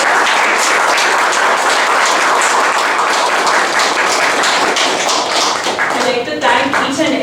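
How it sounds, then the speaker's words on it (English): An audience at a panel discussion bursts into applause, a dense, sustained patter of many hands clapping that fills the room and tapers slightly near the end. "So let's give a huge round of applause."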